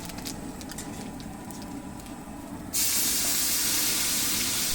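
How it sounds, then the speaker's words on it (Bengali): Black cumin seeds dropped into hot oil in a wok as tempering for a mutton and hilsa dish, a quiet crackle that suddenly bursts into a loud, steady, close sizzle. "এখন দিয়ে দিচ্ছি কড়াইতে কালো জিরে ফোড়ন"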